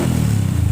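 A Honda Wave 110i motorcycle fitted with a modified, fiberglass-packed split exhaust runs loud and full, its dense low engine rumble holding steady for under a second with no talk over it.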